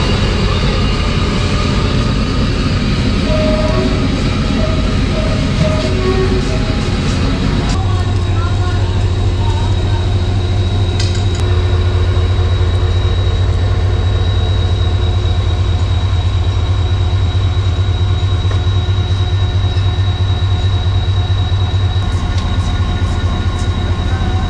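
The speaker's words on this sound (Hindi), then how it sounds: "शालीमार एक्सप्रेस 28 डाउन तो निकल पड़ी पूरे 6 बजे कराची के लिए" Shalimar Express 28 Down passenger train, led by an EMD AGMU30 diesel locomotive, pulling out for Karachi at a station; a loud steady rumble and engine drone rises and holds, with rail noise and a high tonal whine throughout.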